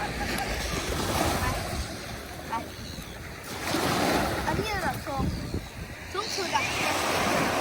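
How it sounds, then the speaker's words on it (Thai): Ocean surf at Mission Bay beach on a warm day, a steady broadband wash of breaking waves with wind buffeting the microphone, a voice talking over it at times. "คลื่นค่อนข้างดีคลื่นค่อนข้างแรง"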